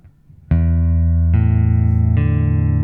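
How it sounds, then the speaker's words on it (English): Open strings of a left-handed acoustic guitar plucked one at a time to check the tuning: three separate notes, each ringing out with a sustained decay, close and clear with no talking. "take all your fingers off the strings and then play each string one by one"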